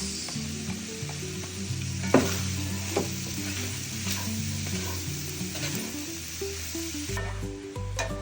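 Carrot, celery and onion cooking in a pan with browned Italian sausage for a healthy holiday stuffing, giving a steady close sizzle with a few spoon knocks and stirs and a low hum beneath, no voices.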